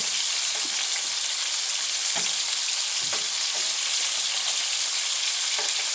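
Chicken frying in a small amount of oil in a pan, a loud, steady sizzle that stays even throughout, with a few faint scrapes of stirring underneath.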